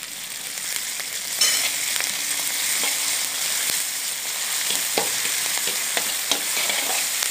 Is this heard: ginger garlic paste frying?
yes